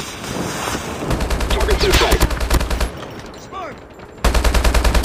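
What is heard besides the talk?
HBRA3 rifle gunfire in the video game Call of Duty Mobile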